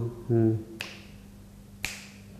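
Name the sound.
finger snaps imitating anklet bells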